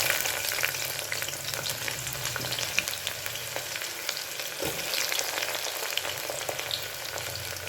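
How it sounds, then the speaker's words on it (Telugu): Onions frying in hot oil in a pan with a piece of cinnamon stick, a dense, even sizzle and crackle that holds close and steady throughout, with occasional faint stirring scrapes. "ఉల్లిపాయ లైట్ గోల్డ్ బ్రౌన్ కలర్ వచ్చే వరకు వేద్దామండి"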